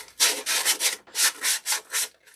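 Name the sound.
sanding styrofoam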